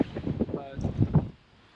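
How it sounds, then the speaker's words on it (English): Strong wind buffets the microphone beside San Francisco Bay, where kite surfers and sailors are out. Low, gusty rumbling swells and fades beneath a person speaking, then drops away. "it's a very windy day, as you can tell from all the kite surfers and sailors"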